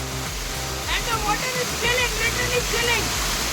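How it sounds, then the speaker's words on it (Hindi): Cold stream water flowing steadily and unbroken near the Nepal border on a ride from Kathmandu toward Ayodhya, a constant broad rush close by with a voice faintly audible over it partway through. "ये पानी कहाँ से आ रहा है और रुकता नहीं है"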